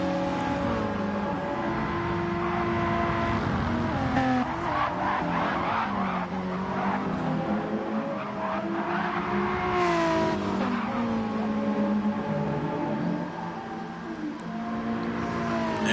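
Tires skid and squeal on a Mitsubishi Lancer in a WTCC racing video game at the reverse Dragon Trail Seaside track, a sustained, wavering screech over steady engine drone, loud and continuous with other cars nearby.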